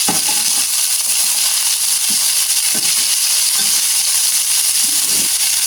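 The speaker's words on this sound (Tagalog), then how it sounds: "Igisa ko muna siya" Adobong daludal (takway stalks) sautés in a pan with a constant loud sizzling hiss, broken by a few soft stirring scrapes and clinks, and no one talking.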